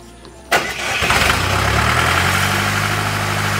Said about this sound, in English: This is our main engine driving the irrigation system.